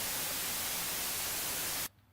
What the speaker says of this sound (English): one of the main things about white noise that we can do is a white noise sweep